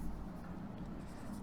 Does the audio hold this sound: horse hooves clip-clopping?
no